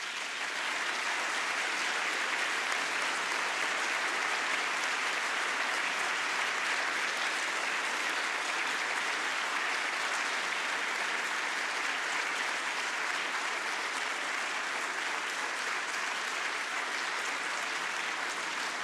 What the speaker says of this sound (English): that's the longest round of applause I've got all week